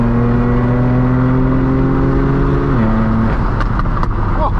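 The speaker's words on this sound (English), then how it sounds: "I think it has an exhaust, so let's see if we can hear that thing." Lamborghini with an aftermarket exhaust revving nearby, a loud steady engine drone that holds then drops in pitch near the end, followed by rougher crackling bursts.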